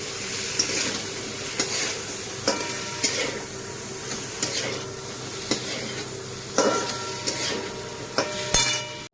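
Boiled papaya and potato stirred into a frying pan with salt, turmeric and chilli, a steady sizzle under repeated scraping clinks of a spatula against the metal pan, close and fairly loud, no talking.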